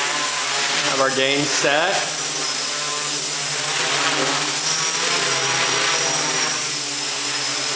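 A KK2.0 multicopter flying in acro mode gives a steady, loud propeller whine and buzz throughout, with a brief spoken phrase near the start.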